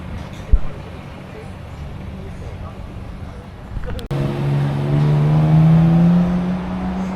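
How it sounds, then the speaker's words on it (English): An Aston Martin engine on a Tokyo street, quiet at first with distant traffic murmur, then suddenly revving loud and close, its steady roar climbing in pitch and holding strong for the final few seconds. "That Aston could sound nasty if he steps on it. You could hear it."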